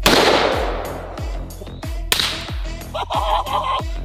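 A Raging Hunter revolver firing .500 Magnum rounds: about seven loud, sharp reports in quick succession, each with a low, booming tail.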